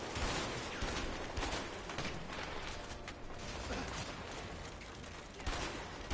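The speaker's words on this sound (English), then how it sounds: "I have to waste 50 bullets." Rapid, sustained gunfire from the co-op video game A Way Out, a dense continuous burst of automatic shots and mechanical clatter lasting several seconds with no clear pauses.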